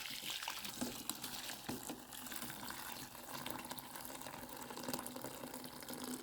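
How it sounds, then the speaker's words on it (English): Soaked beans are rinsed under running tap water and sieved for Nigerian stewed beans, a steady close splash and pour of water from a faucet, with no talking. "So now we'll have to sieve out the water, wash it until the water clears up."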